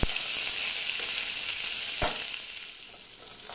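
Sliced onion frying in oil in a pan until browned, a steady bright sizzle running throughout, near and continuous, with one short clatter of stirring partway through; no voices.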